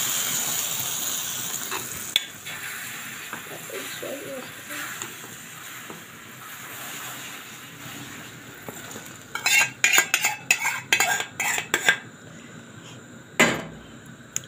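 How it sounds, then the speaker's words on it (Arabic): Garlic tasha (fried garlic) sizzling as it is poured onto green molokhia, a steady frying hiss followed by a run of sharp clinks and scrapes of a metal spoon and pot. "وهنطش عليها طشة الثوم"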